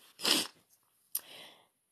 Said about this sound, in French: Excusez-moi, j'ai envie d'éternuer.